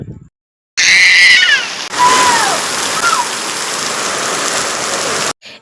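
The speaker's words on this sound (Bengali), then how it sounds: "আকাশ জুড়ে মুসল ধারে বৃষ্টি" Heavy rain pours down steadily, a dense close roar of drops on surfaces, with a brief whistle-like tone early on.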